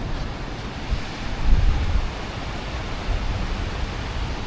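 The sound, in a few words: sea waves on the shore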